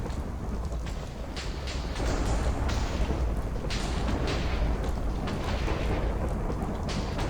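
Lightning strikes and rolling thunder from a ritual in modded Minecraft, a continuous loud rumbling barrage with repeated sharp cracks layered throughout, steady and dense with no voices.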